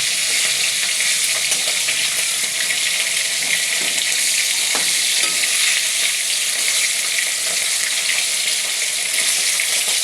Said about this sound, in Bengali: দেখুন মাছটাও ভাজা হয়ে গেল